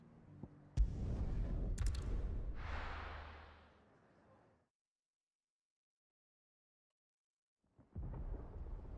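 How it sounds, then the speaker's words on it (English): Thunder rumbles in Final Fantasy XVI, a loud crack breaking into a long rolling roar that fades to silence before another low rumble rises. "Sounds like thunder."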